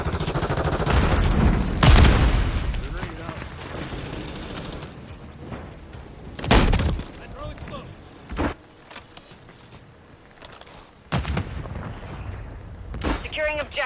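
Gunfire bursts and sharp blasts from a grenade in a first-person shooter game, several loud cracks spread unevenly amid mechanical clatter, with game voices talking over the action.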